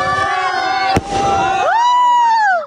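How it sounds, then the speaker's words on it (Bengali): Fireworks on a field the night before Eid: a sharp bang, then loud rising whistles and sustained shrieking tones, with crowd noise and children's shouts underneath. "ধামধাম করে কয়েকটা আতশবাজি ফুটাইলাম।"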